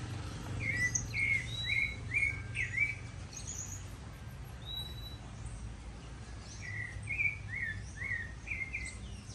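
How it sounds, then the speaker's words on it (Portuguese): A canary sings in repeated bright trilled phrases, clustered in two bursts, fairly close over a steady low background hum; no talking. "esse canarinho cantando."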